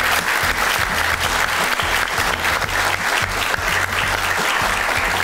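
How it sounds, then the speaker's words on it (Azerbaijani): A studio audience claps loudly and continuously for a person in a lemon costume on a comedy show stage, dense sustained applause filling the whole moment. "Bir alqış limona."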